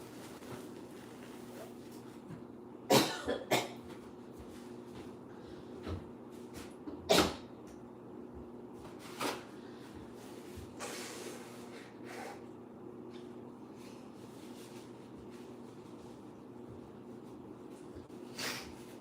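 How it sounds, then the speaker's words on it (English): A few sharp, loud nose blows and snorty bursts at intervals over a quiet background hum, with softer sniffs scattered later. "I have to blow my nose."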